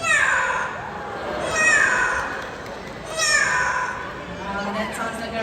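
A child imitates a cat's meow, giving several drawn-out, rising and falling meows in a row, close and loud, with other children's voices and chatter around them.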